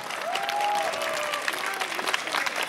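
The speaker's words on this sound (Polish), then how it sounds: "Brawa dla nich!" An audience applauds a trio of female singers with an orchestra, the clapping close and continuous while a faint sustained tone and brief voices drift underneath.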